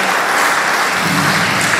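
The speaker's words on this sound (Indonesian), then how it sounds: "terima kasih, tepuk tangan untuk kakak Meta" Children and adults at a church camp gathering give a warm round of applause for Meta, a brief, dense, even clapping that is loud and close.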